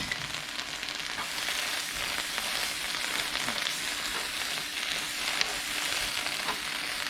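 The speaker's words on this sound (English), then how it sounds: "put the fava bean in the frying pan." Fava beans fry in a frying pan with a constant, even sizzle and crackle, close and moderately loud throughout.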